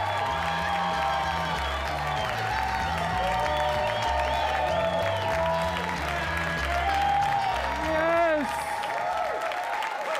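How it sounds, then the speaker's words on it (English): Loud, sustained applause and cheering from a comedy club crowd in New York, greeting a comedian's television debut in his hometown; steady clapping with whoops runs throughout, overlapped by a voice over the crowd. "Keep clapping. I deserve it."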